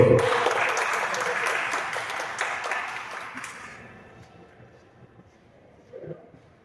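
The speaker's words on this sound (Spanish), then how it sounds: "Fuerte aplauso." An audience at a mathematics conference applauds to welcome a speaker, loud dense clapping at first that gradually thins and fades away over several seconds, leaving near quiet with a brief murmur of voices at the end.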